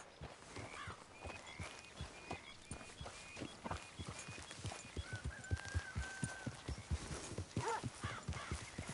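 Steady clip-clop of horse hooves at a walking pace in Red Dead Redemption 2, with a brief whinny partway through and a faint ambient tone behind.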